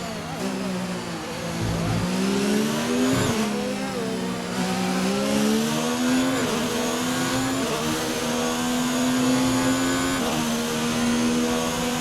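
F1 race car engine from the F1 2019 video game at the Canadian circuit, a loud continuous high-pitched whine rising and falling through gear shifts across the whole stretch, with no voices.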